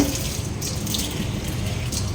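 A chayote being washed under a running kitchen tap, water splashing and rushing steadily into the sink with faint handling sounds and no voices.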